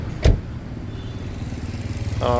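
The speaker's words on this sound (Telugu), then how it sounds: "ఇంజన్ సౌండ్ చూసుకోండి" A 2013 Hyundai i20 engine idling with a low, even throb, a short thump early on and a buzzing tone rising near the end, with no talking.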